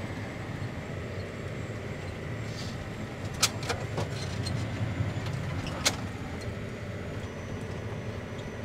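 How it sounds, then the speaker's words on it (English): A John Deere 9430T track tractor pulls a mower across a stubble field, its engine a steady low rumble throughout, with a couple of sharp metallic clinks and rattles in the cab partway through. "So I'm driving a T-Track John Deere 9430T"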